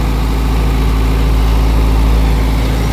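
Tractor engine running steadily at about 1500 rpm to power a sprayer, a loud, continuous low rumble heard close up with no talking.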